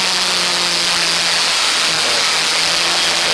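Historic Formula Ford race cars at Donington Park howl past on the straight toward Redgate, loud buzzing engines with steady pitch and a faint second engine tone underneath, no commentary audible.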